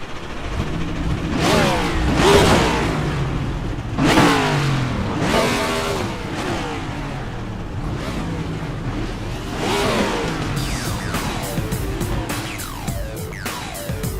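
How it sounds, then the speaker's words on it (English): Simulated NASCAR race car engines fire up at Charlotte Motor Speedway in an eNASCAR iRacing broadcast, a dense layered roar with repeated revving surges and whooshing passes, loud and continuous with no talk. "drivers, start your engines!"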